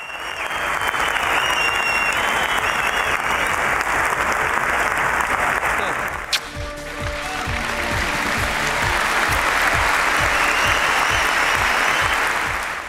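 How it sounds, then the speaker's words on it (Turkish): A large hall audience at a music award ceremony gives a long, loud, thunderous ovation, dense clapping sustained throughout with a brief dip midway before swelling again. "salondan büyük alkış tufanı koparken"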